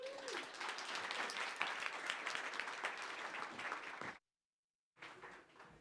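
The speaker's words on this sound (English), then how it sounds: "Please give her a round of applause." Sustained applause from a panel audience at Sundance fills the room for about four seconds, dense and fairly close, breaks off into brief silence, then resumes.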